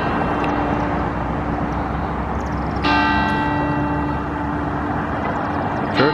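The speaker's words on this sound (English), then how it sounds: "Church bells still ring." Church bells in the town of Peru in north central Illinois strike with resonant, sustained tones over steady outdoor background noise, a clear stroke near the middle and another at the end, fairly distant.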